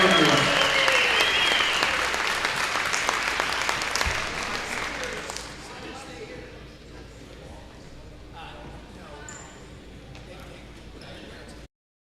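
Crowd applause rings through a high school gym at a boys basketball game honoring seniors: loud sustained clapping that gradually fades and thins out, with a voice over the public address near the start.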